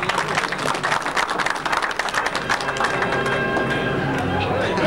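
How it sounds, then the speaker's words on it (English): Audience applause at a 1995 artistic billiards exhibition, a dense steady patter of many hands clapping that carries on throughout, mixed with some voices and crowd murmur. "Round of applause."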